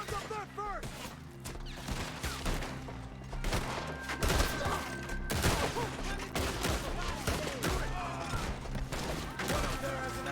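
Video game gunfire: a rapid, dense string of shots and thuds repeating through the whole stretch, with voices calling out under the shooting.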